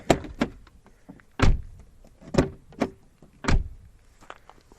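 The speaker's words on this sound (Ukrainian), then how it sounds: "Звук закриття дверей." A Volvo XC60 door shuts several times, each close giving a solid, near thunk with a short rattle. The slams come at uneven intervals in an otherwise quiet setting.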